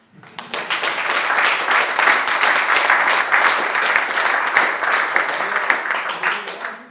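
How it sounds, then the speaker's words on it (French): An audience applauds guests after a debate, a dense, steady burst of many hands clapping that starts abruptly and holds for several seconds alone. "je pense que vous pourriez éventuellement"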